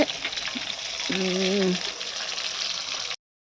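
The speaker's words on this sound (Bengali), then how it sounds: "মাছ ভাজা হচ্ছে।" Rohu fish frying in oil, a steady close sizzle that fills the whole stretch, with a brief whistling tone rising over it midway before the sound cuts off abruptly.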